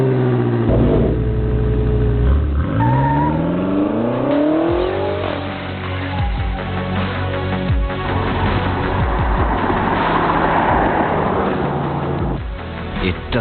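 A BMW X5 M SUV engine revs hard on the road, rising and falling through loud, sustained acceleration sweeps close up, with a voice speaking over the engine.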